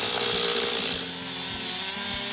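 Chainsaw cutting through a tree trunk, a loud, steady engine roar with a continuous buzzing whine that dips slightly midway as the chain bites into the wood, then holds strong to the end.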